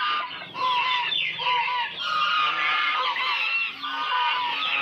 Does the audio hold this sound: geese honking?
yes